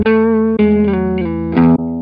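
Electric guitar chords through a Tube Screamer overdrive on a Line 6 POD Go, sustained and ringing, struck three times with short gaps, loud and close.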